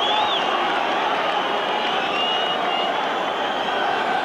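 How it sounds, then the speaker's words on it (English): Everton fans cheer in a packed football stadium during a 1989 derby against Liverpool, a broad steady crowd roar filling the background. "Cheers from the Everton fans as they win it back again"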